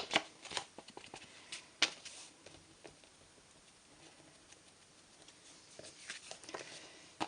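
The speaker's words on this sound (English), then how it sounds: "I do want to sponge the edges with that" A craft ink sponge is dabbed repeatedly along the edges of a handmade collage card, giving quiet, irregular soft patting and rubbing strokes with a few sharper taps, close up and with no talk.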